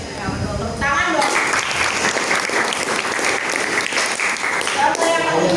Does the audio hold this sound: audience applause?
yes